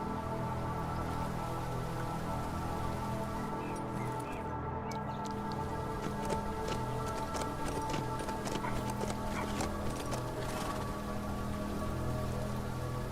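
Horse hooves clip-clop in a steady rhythm over a constant rain-like patter and a low droning background, moderately faint throughout, in the video game HumanitZ.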